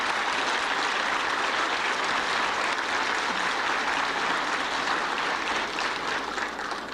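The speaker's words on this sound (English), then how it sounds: "Could we give them a special round of applause?" Sustained, dense applause from a forum audience for a panel of presenters at a Black education forum, steady and full throughout with no voices over it.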